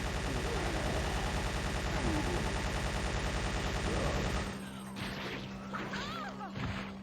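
Rapid automatic gunfire from a gun in the Resident Evil 3 video game, a dense sustained burst of shots that stops partway, leaving quieter game sounds with a few scattered hits.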